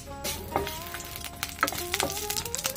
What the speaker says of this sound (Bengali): এখন গরম হওয়া সরিষার তেলে আমি ভেজে নিচ্ছি 7 থেকে 8 পিস শুকনো মরিচ